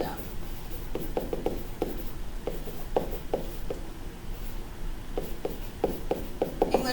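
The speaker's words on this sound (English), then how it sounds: "So I'm going to write that down." Pen or pencil scratching notes on paper in quiet, soft intermittent strokes and taps in short bursts, with brief pauses between words.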